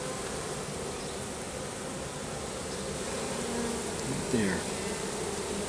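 A mass of honeybees fanning at a swarm makes a continuous, even, close buzzing drone, with a brief single word of speech over it near the end.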